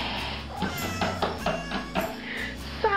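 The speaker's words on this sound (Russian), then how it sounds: "Это кошка, которая ненавидит почтальонов и объявила им войну." A cat that hates postmen meows several times in short, drawn-out calls, close and fairly loud over a steady low background hum.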